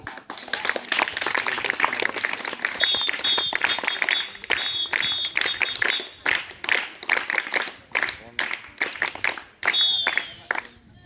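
Students at a school Children's Day celebration in Vadkapur clap in a dense, loud patter that breaks into uneven bursts toward the end, with a thin high whistle-like tone appearing at times.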